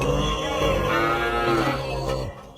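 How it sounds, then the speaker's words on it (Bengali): Cow mooing at night in a garden, a single long, loud, low bellow close by that fades out at the end. "এ কি, এত রাতে গরু ডাকছে কোথায়?"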